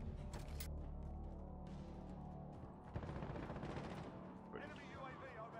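Rapid bursts of automatic gunfire in a multiplayer war video game, repeated volleys and clattering shots at mid distance, with players talking over the shooting.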